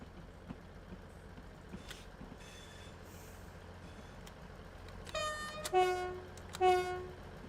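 A train in the Train Sim World 3 video game on the Midland Main Line between Leicester, Derby and Nottingham, low rolling rumble followed by two loud, tonal horn blasts near the end.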